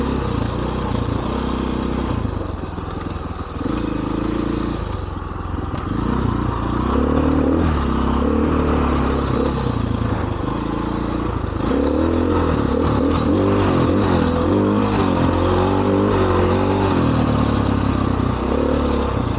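Motorcycle ridden along the Rampart Range dirt trail 627 in Colorado, its engine droning and revving steadily throughout with rattling and clatter from the rough ground, close and continuous with no talk.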